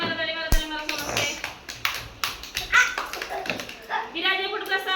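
A group of children clapping their hands in a classroom activity, a quick run of sharp claps mixed with chanting young voices.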